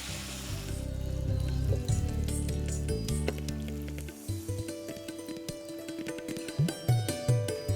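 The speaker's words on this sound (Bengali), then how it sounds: "সবকটাই কিন্তু ক্রিস্পি করে ভাজা হয়ে গেল" Semolina and potato snacks deep-fry crisp in oil with a crackling, patter-like sizzle, joined by clinks and taps of handling, fairly quiet and close, with a low hum fading out partway.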